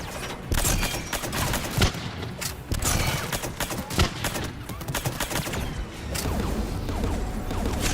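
Rapid turret gunfire in Mass Effect 3, sustained bursts of crackling shots and impacts over about eight seconds, loud and dense with scattered sharper bangs throughout and no talking.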